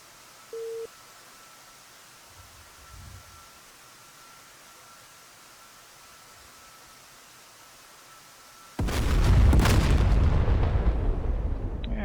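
A bomb detonates on a target in the DCS World flight simulator after a long quiet stretch with a brief beep, then bursts into a loud, sustained rumbling explosion that roars to the end.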